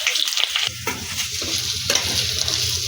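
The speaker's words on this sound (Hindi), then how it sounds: "ये आलू भी तल गया।" Potatoes frying in oil in a pan for a Bihar-style vegetable dish give a continuous close sizzle, with stirring and scraping on top.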